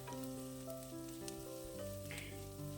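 Chopped onions and salt sautéing in a pan for upma give a steady, soft sizzle with light stirring scrapes, heard beneath a continuous droning background hum.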